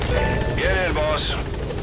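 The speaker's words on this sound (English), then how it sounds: "Support helicopter has arrived." The support helicopter in Metal Gear Solid V: The Phantom Pain arrives with a steady rotor drone that runs beneath a speaking voice.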